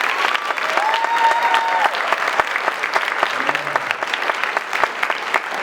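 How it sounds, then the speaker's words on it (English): Audience applause at a 2016 student writing showcase, loud, close, brisk clapping that stays steady throughout, with a few faint voices mixed in. "can you give these guys a round of applause?"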